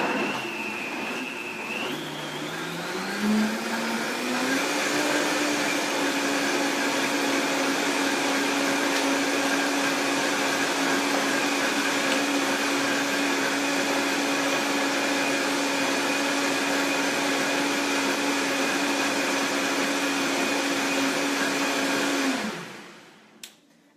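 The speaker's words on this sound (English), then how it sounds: "So we're going to turn on our blender." A countertop blender runs for about twenty seconds pureeing a gut-healing smoothie elixir, with a steady motor whine that climbs in pitch after a few seconds as the load loosens, holds level, then cuts off abruptly.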